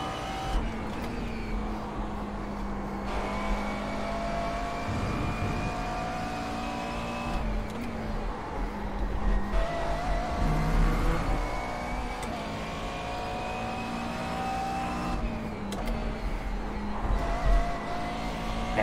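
A GT3 race car engine at Brands Hatch in iRacing drones steadily at high revs, with the pitch rising through gears and dropping on shifts, plus brief tire squeal in the corners.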